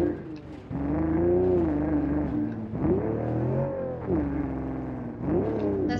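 An off-road vehicle engine in a driving simulation game, revving hard for a run up a steep slope. The steady droning tone rises and falls in pitch several times as the throttle swells and eases, loud and continuous.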